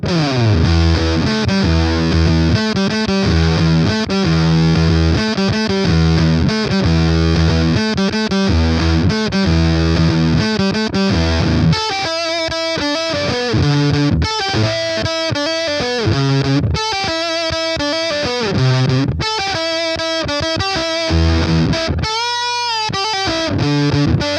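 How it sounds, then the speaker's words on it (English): A heavily fuzzed electric guitar plays loud, gritty chugging riffs, then shifts to choppier stabs and bends with short gaps. "my favourite setting with this pedal has just been to gun the fuzz pretty high"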